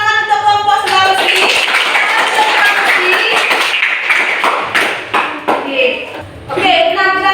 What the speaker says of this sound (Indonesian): berikan tepuk tangan untuk kelompok Sulawesi